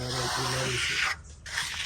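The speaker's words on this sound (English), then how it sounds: "Spraying that water helps bring that milk to the surface." Water sprays in a steady broadband hiss onto fresh stucco on a wall, broken by one short pause before the spraying resumes, close and fairly loud.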